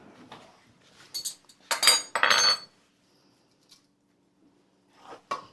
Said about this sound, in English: Now, give that a stir.